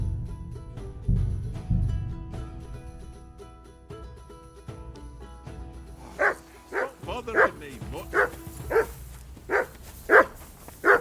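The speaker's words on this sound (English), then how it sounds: "Say something to that dog." A dog in Kingdom Come: Deliverance II barks repeatedly in a rough, evenly spaced series, fairly loud and close, following a stretch of voices and background music.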